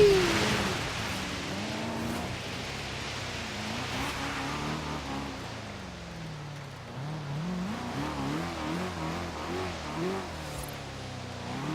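A BMW in a driving video game revs and accelerates continuously, its engine tone rising and falling through shifts with faint tire squeal, loud and steady with no talking.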